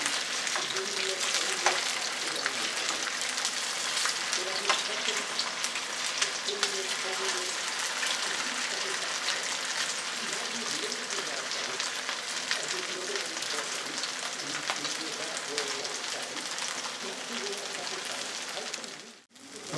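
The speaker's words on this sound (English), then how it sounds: "The last 4 are frying up." Steady, close sizzling of eel cakes frying in a pan, a continuous crackle throughout with no speech.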